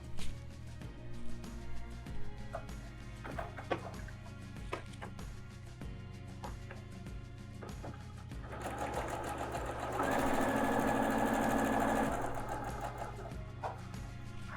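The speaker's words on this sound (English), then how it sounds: "And so I'm going to sew these 2 together." A sewing machine stitches quilt fabric pieces together in a steady whirring run, with faint background activity at first and a louder, sustained burst of stitching near the end.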